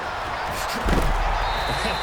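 A football tackle lands in the Madden 18 video game with one heavy thud partway through. Game commentary and crowd noise continue throughout.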